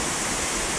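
Floodwater rushes after a thunderstorm in Kyjov, a dense, steady roar of flowing water that is loud and continuous over the short stretch.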